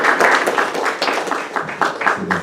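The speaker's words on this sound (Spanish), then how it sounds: "le brindamos un aplauso al psicólogo Roberto Ríos" Audience applause for psychologist Roberto Ríos at a recognition ceremony, a steady broadband patter of many hands clapping with uneven surges, fairly close and continuous throughout.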